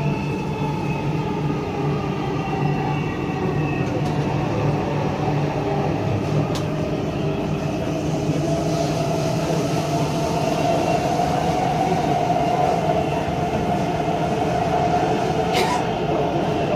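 A Dubai Metro train runs between stations with a steady, continuous rumble and hum of wheels and motors, a loud, sustained sound inside the car, with a few faint clicks and no talking.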